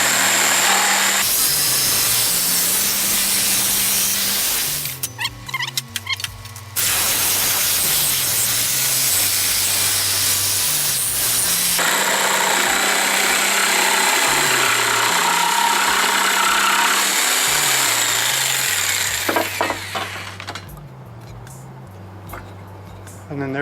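A power saw cuts wood for a camper access door, a loud, steady whine running almost throughout with brief pauses and pitch shifts as the piece is moved along the blade.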